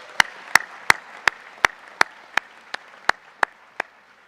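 Applause for Dr. Cleve at a Saybrook University commencement ceremony: about a dozen sharp, evenly spaced claps ring out one by one over a quiet room, sounding like a few slow clappers rather than a full crowd.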